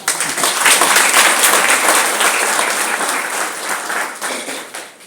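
An audience at a meditation festival applauds, a loud, dense wash of clapping that holds steady for several seconds before thinning slightly toward the end.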